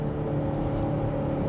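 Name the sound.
2023 BMW X5 xDrive40i engine accelerating uphill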